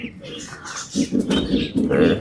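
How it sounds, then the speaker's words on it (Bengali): Pigeons coo and murmur nearby in low, throaty bursts, several overlapping, with faint chirps and some background noise. "এখানে কিছু কবুতর আছে, সেগুলো দেখাবো আপনাদের"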